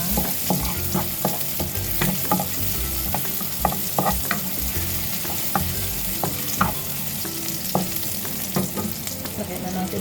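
Chopped onions sauté with browned garlic in a hot pan, sizzling steadily while a utensil scrapes and stirs in frequent clicks and taps.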